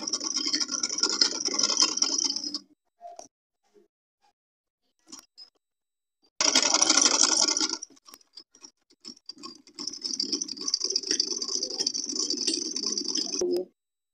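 A sewing machine stitches a sleeve seam with a French seam, running in three fast, steady bursts separated by quiet pauses and small handling clicks.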